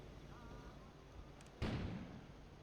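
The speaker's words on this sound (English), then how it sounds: "An explosion suddenly occurred outside." An explosion goes off outside in the video game Kona, set in Canada: a single deep, sudden boom breaks the quiet ambience and rumbles away as it fades.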